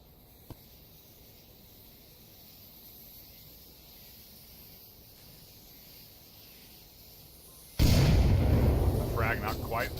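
Smoke grenades deploying in the VR shooter Onward: after a quiet stretch, a loud sustained hiss bursts in near the end and stays strong, with a voice over it.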